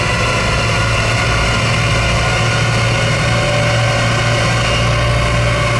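A car's engine runs steadily on a dynamometer during an Air Care emissions test, brought up to about 100 km/h in a closed test room, giving a loud, constant drone with deep low rumble and no talk.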